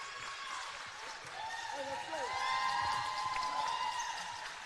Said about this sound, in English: And you hear the crowd getting fired up here